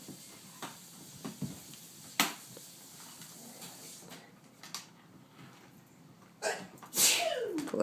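A toddler lets out a few sharp, sudden sneezes spaced apart in a quiet indoor setting, with faint rustling between them.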